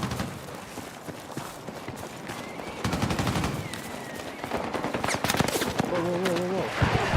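Rapid video-game gunfire crackles in dense bursts and volleys over a busy battlefield mix, with sniper and grenade action around and faint voices underneath.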